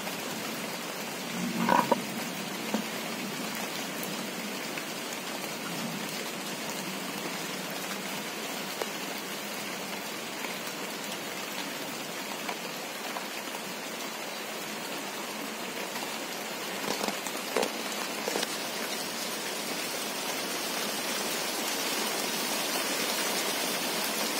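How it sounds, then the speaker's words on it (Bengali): Rain falls steadily outdoors as a soft, even hiss of drops on surfaces, with a few faint knocks now and then and no voices. "বৃষ্টি এসে গেল"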